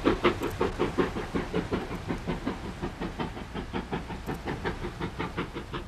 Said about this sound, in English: Ever since the train left Fort William, it's been climbing almost all the way.